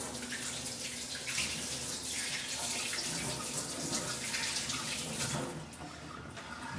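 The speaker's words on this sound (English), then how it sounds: "I'm just going to quickly give my hands a little rinse off." Hands rinsed under a running kitchen tap, a steady close splash of water falling into a sink that continues without pause and eases slightly near the end.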